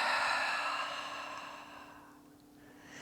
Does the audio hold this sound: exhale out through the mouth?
yes